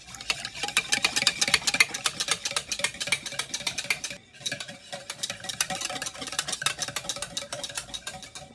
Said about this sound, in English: Now mix the wet ingredients together until combined.